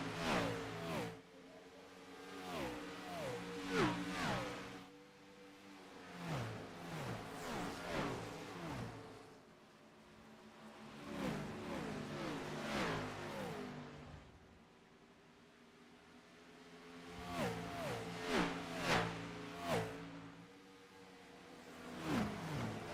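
Race car engines in an oval racing video game at Atlanta rev and whine in repeated surges, rising and falling through gear changes with brief lulls between bursts, fairly faint and without talk.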